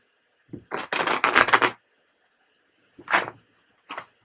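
Bursts of papery riffling and shuffling of tarot cards, a long run followed by two shorter ones, close and fairly quiet with silent gaps between.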